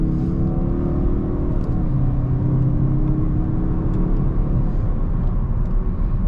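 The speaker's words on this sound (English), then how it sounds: "this turbo 4-cylinder is really quiet with the windows up" Interior of a moving 2022 Mazda3 2.5 turbo four-cylinder car, with a steady low engine and road rumble and a smooth whir that continues without a break and without voices.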